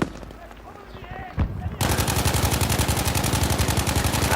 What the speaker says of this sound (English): I let go of the trigger. Why did he keep shooting?